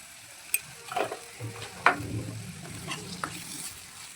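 A spoon stirs spicy vam fish curry in a hot pan, giving scattered scraping clinks over a soft continuous sizzle, close and fairly quiet, with no talk.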